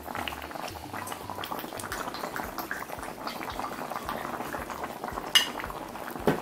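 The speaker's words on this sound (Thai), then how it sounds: "แกงฟักทองเรานะครับเริ่มเดือดแล้วครับ" Pumpkin and pork curry boils steadily in a pot, a constant close bubbling and simmering with a few faint utensil clinks near the end.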